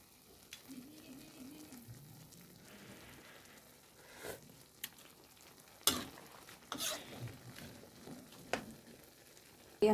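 Bihon rice noodles stirred in a pan with vegetables and water give a soft, low sizzle with intermittent scraping and clattering strokes that grow busier toward the end.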